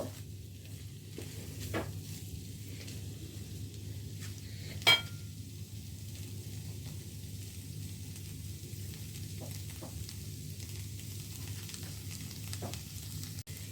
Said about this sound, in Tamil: இந்த பயரோட சேரும் வரையும் கிளறி கொள்ளுங்கோ.